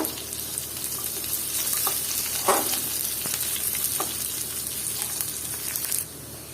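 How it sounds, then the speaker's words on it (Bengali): Browned onion and chopped garlic stir-frying in a pan for a dried rupchanda fish dish: a steady sizzling hiss with several spatula scrapes and clacks, fairly close, ending in a sudden quieter patch; nobody speaks. "আর এখন আবারও রসুন দিয়ে আমি এটাকে ভালো মতো আবারও নেড়ে চেড়ে নিব"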